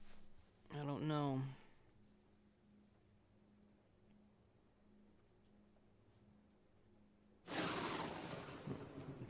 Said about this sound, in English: It sounded like a lightning thunderstorm outside of the game.